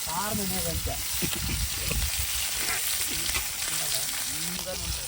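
Fish frying in oil in a pan over an open fire in a forest, giving a steady, loud sizzle throughout while voices talk over it at the start and end.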